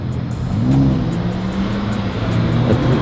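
A matte green Lamborghini Huracan Technica supercar on a Zurich street at night rumbles with a deep, steady engine note that swells slightly as it moves nearby, loud and unbroken throughout.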